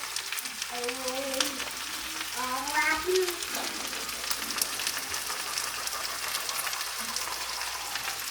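Celery and onion frying in a minced-meat sauce with mushrooms, a steady close sizzle with stirring under a continuous background hum and brief faint voice-like tones.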